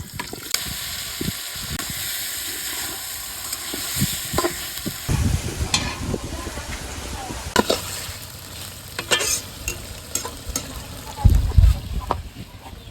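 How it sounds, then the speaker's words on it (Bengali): Beef frying with cinnamon, cardamom and cloves in oil in a wok, a steady close sizzle with stirring clatter and scraping throughout and a few louder knocks near the end. "গোস্ত দিয়ে দিলাম"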